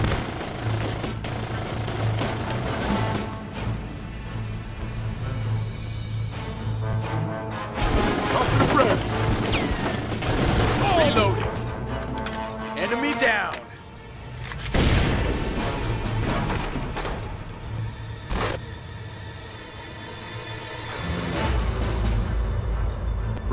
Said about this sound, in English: We got incoming fire, sir.